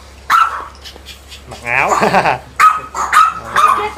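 A two-month-old chihuahua puppy yips and whimpers close by, with short high barks and a longer whining cry mixed with nearby voices talking.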